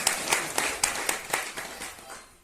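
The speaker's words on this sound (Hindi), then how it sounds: "उसके बाद सब मोटाखेड़ा निवासी के लिए ताली बजाना।" People at a house-warming gathering clap together in a steady rhythm, about nine claps spaced evenly and nearby, tapering off toward the end.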